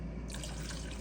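Rum is poured into a pot for a syrup with water, sugar and citrus zest, a brief, steady liquid stream close by, continuous and fairly loud throughout the moment.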